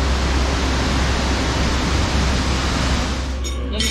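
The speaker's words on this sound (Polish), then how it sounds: "Przede wszystkim wodospad jest bardzo szeroki." Wide Kravica waterfall in Bosnia, a dense, constant roar of falling water with deep low rumble, loud and unbroken throughout.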